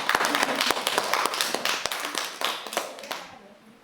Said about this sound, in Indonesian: Boleh beri tepuk tangan Ibu-ibu.